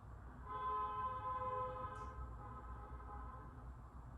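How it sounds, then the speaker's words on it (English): A vehicle outside is heard faintly as a low rumble with a tonal, horn-like hum that swells and then fades, distant and quiet indoors with no talk over it. "Listen to that car outside."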